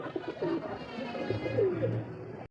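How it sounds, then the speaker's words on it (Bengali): A pair of bright red Danish pigeons give low, soft cooing calls that repeat throughout, close by and steady, with faint background noise and no talking. "আরও এক জোড়া ড্যানিশ কবুতর দেখেন"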